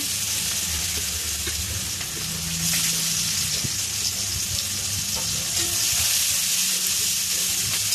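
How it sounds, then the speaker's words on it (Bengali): Chopped onion sizzles in hot oil with whole cumin, a dense steady frying hiss with occasional stirring scrapes, close and continuous with no talking. "পেঁয়াজটা একটু হালকা ভেজে নেব"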